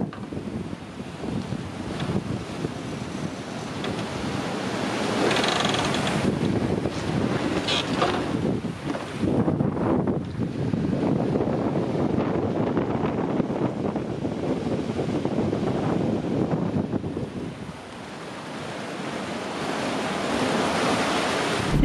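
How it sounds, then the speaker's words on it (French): Wind and waves around a sailboat at sea off New Caledonia as a gust arrives, a steady roar of wind with surging, washing waves rising and falling over the whole stretch, no voices. "Un petit coup de vent arrive"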